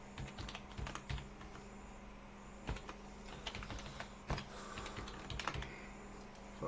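A password is typed on a computer keyboard, a quick run of close, crisp key clicks with short pauses and a few sharper taps, quiet and alone without speech.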